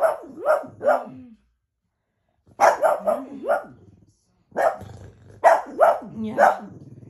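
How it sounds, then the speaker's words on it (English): Dogs on a television bark in three separate bursts of two to four sharp barks each, with brief pauses between, heard clearly in a quiet room. "Look it, there's doggies on TV."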